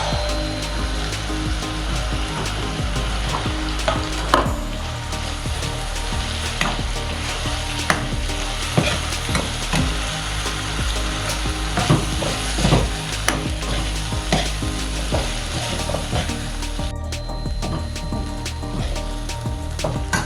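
Brinjal pieces fry in a reddish onion paste, giving a close, continuous sizzle that runs without pause, with repeated scraping and clacking stirs against the pan.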